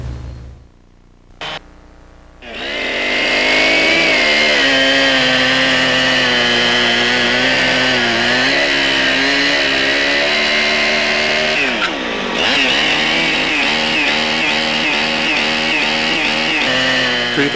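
A chainsaw cuts for log cabin building, running loud and close with a steady high whine that dips briefly under load before roaring on.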